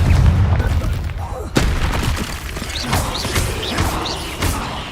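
A Confringo blast spell in Hogwarts Legacy, loud booming bursts and thuds amid a busy fight with mechanical clatter and whooshing effects, close and continuous.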